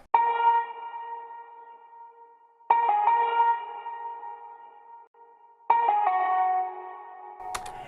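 Sustained piano chords ring out with heavy echo and shimmering effects, three separate struck chords each decaying slowly, with a sharp burst at the end.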